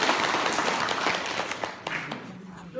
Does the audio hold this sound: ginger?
no